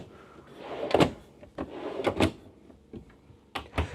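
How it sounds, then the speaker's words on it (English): Slide-out kitchen drawers in a 2025 Renegade Explorer 40ERB RV are pulled open and pushed shut, giving several close sliding rumbles and knocks spaced a second or so apart. "You got slide out drawers"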